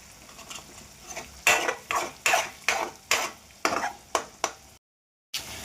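A utensil stirs egg, onion and Maggi noodles in a pan. Nine or ten sharp scrapes and clinks come at a steady rhythm, close and clear, with a faint sizzle underneath and a brief silent gap near the end.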